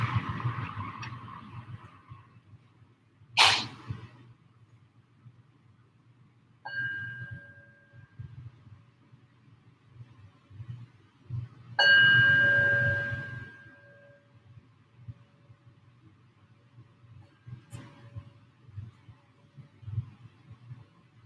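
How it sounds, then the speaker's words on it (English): A meditation bell struck to open a yin yoga practice, a few separate clear metallic rings with long decaying tones over a quiet room background. "I'm going to invite the bell to bring us into our space"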